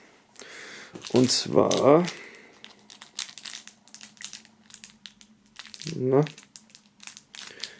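Plastic foil wrapping crinkles and crackles as a band flag is unpacked from a box set, coming in irregular close bursts with someone speaking German between them.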